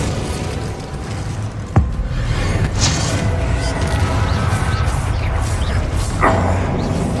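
Spell explosions go off in Hogwarts Legacy, one sharp blast followed by rumbling impacts and crackling bursts amid dense battle noise, with a second burst near the end.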